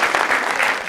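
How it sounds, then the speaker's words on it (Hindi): Women in an audience clap together in a brief, dense burst of applause that stays even and fairly loud throughout. "ये खवातीन तालियां बजा रही है"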